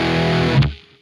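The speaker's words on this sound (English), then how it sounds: "and then there is a distortion" A distorted electric guitar runs through a DS-1-style distortion effect inside an Antelope Audio Zenith 2 audio interface, sustaining a loud buzzy chord that is cut off abruptly and quickly fades into silence.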